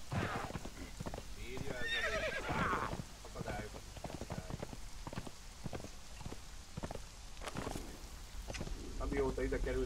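Horse in the video game Conan Exiles giving a whinny early on, then steady clip-clop of hooves throughout, fairly close with light rain-like background and some voice.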